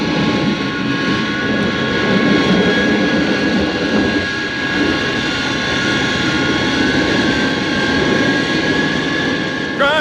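A spaceship's jets firing as a sound effect in a classic BBC science fiction radio drama: a loud, steady engine roar with a constant hum that holds unbroken for the full ten seconds.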